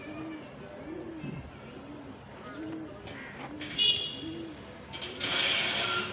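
Pigeons in breeding condition at a pigeon sale give a steady series of about six low, rolling coos at an even pace, with a few brief higher calls and rustles toward the end.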